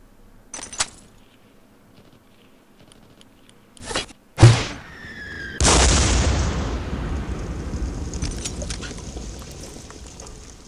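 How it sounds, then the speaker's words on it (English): Day of Defeat video game, a grenade standing in for a mortar round: a few sharp clicks and thumps, then a loud booming explosion whose rumble trails off slowly over several seconds. "The explosion has been simulated with a grenade, because the mortar was never finished."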